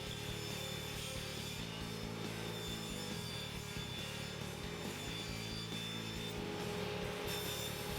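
Handsaw or power saw cutting wooden cabinet tops and bottoms for book storage, a steady rasping cut running the whole time with repeated strokes, close and alone without talk.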